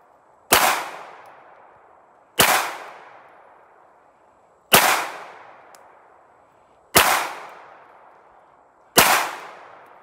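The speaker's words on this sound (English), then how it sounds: "Or maybe I'll shoot the steel, who knows." A Smith & Wesson Pro Series 9mm 1911 pistol fires at steel targets: five sharp, loud shots spaced about two seconds apart, each trailing off in a brief ringing decay, with no talking.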